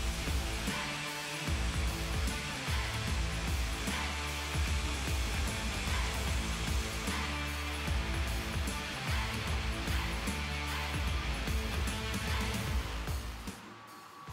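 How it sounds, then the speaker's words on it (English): An automated router cuts a laminate desk top in a factory, a loud continuous high-pitched whine and rushing noise that holds steady throughout and drops off near the end. "it's placed on one of our two routers and cut using the automated program."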